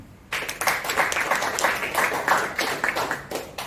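An audience claps at a business seminar, a dense patter of hands that starts after a brief quiet moment and carries on steadily at moderate loudness.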